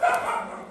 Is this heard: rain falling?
no